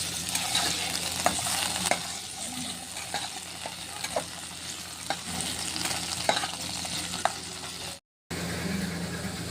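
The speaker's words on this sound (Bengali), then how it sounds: "আলুগুলো হালকা করে ভেজে নেব" Potato pieces frying lightly in hot oil, a steady close sizzle with occasional stirring scrapes and clicks, continuous apart from one brief drop near the end.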